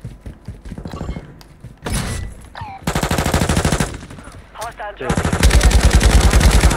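Gunfire in Call of Duty Warzone 2 during a quads match at Fort Resurgence, loud rapid automatic bursts in several stretches with brief gaps, overlapping game effects and a player's voice talking.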